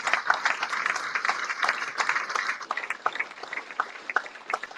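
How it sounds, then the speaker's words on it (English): Audience applause for backroom staff at a football club fans forum, a dense, lively burst of clapping from a roomful of people, steady then thinning slightly toward the end. "Could you all give them a round of applause too?"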